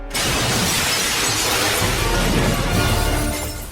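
Someone crashes through a glass pane: a loud, sudden shatter, followed by a long, dense spray of falling shards and tinkling debris that slowly fades.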